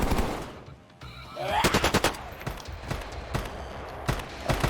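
Automatic weapon fire in the video game Star Citizen, with rapid bursts of gunshots and a spaced series of sharp shots at mid distance over a low game background.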